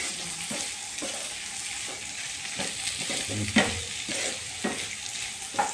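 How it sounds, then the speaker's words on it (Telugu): Bitter gourd deep frying in hot oil, a steady close sizzle with intermittent stirring scrapes and knocks throughout, no talking. "బాగా డీప్ ఫ్రై చేసుకోవాలి దీన్ని రోస్ట్ అయిపోవాలండి"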